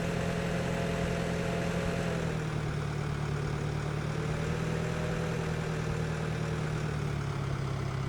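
A tractor engine in the farming video game Farming Simulator 18 runs as a steady, unbroken mid-low drone, idling evenly with no voices.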